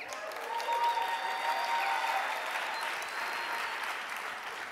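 Audience applause at an Ignite Phoenix slideshow karaoke event, a steady, moderately distant wash of many hands clapping with a few faint whoops, sustained throughout and fading slightly at the end.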